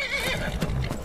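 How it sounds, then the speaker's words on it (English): A horse neighs and whinnies in the video game Skyrim, a loud, shrill cry lasting about a second with hoof clatter mixed underneath. "The horse has gone crazy as well now."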